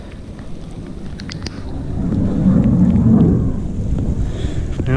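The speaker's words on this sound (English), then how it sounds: "The only thunderous sounds are coming from the F-16s flying their sorties." A distant F-16 fighter jet rumbles overhead in the Wichita Mountains, a low, broad roar that swells and fades gradually beneath wind buffeting the microphone outdoors.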